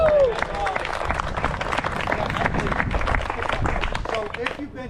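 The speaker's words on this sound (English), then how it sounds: "why don't you guys give yourselves a round of applause?" An audience at a push hands retreat opening presentation breaks into applause, a dense, sustained roll of clapping with some cheering and voices mixed in.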